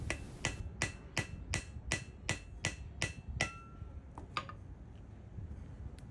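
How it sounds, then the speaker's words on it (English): A seal driver tool is struck with about ten sharp, evenly spaced hammer blows to seat the inner wheel bearing seal on the front hub of a 1985 Toyota Celica Supra. The ringing metallic knocks are close and crisp, followed by a few lighter taps. "Now using a seal driver tool, I'll press it back into its place"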